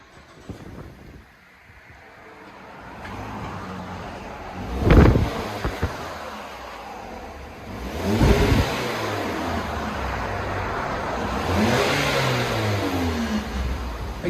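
A 2014 Ford Fusion SE with the 2.5-liter four-cylinder on its stock factory exhaust revs in a few separate bursts, each rising and falling, with steady wind noise buffeting the microphone in between.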